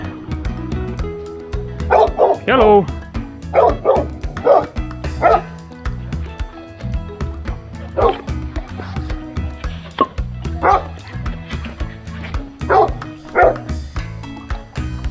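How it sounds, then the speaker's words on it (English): A dog tied up on the island of Lefkada, Greece, barks in repeated bursts over steady background noise, with a brief spoken greeting mixed in. "And we got a doggy tied up, fortunately."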